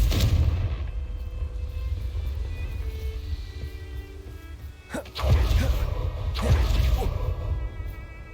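Explosive blasts from the Confringo spell in the video game Hogwarts Legacy: a rumbling boom at the start, then two sharp, loud bursts near the end over a low rumble of game sound.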